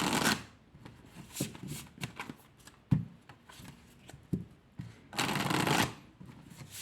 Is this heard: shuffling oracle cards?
yes